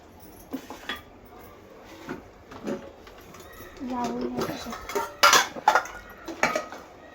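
A home cook mixes masala and fish in a metal cooking pot, with clinks and scrapes of a spoon against the pot, growing busier toward the end, while people talk nearby.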